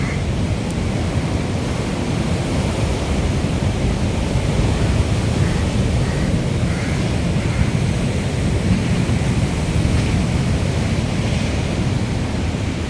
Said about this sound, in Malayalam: ഇത്ര പൊക്കത്തിലായിട്ട് പോലും വെള്ളം കയറി വരുന്നുണ്ട്